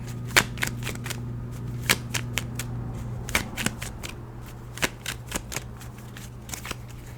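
A deck of tarot cards is shuffled by hand in a quiet room, with repeated crisp riffling bursts and snaps in an uneven rhythm and no talking.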